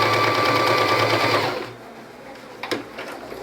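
A sewing machine stitches a pattu pavadai top in a rapid, even whir for about a second and a half, then stops, followed by quiet handling of fabric.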